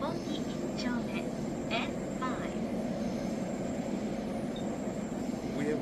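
An underground train rides along with a steady, heavy rumble and hiss that fills the carriage, with a few brief squeaks and clicks and faint voices in the background.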